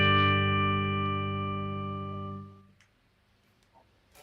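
Electric guitar run through a TC Electronic Sub'n'Up octave pedal with three octaves, light overdrive and reverb, played as a slow organ-like volume swell that sustains loudly and then fades into near silence.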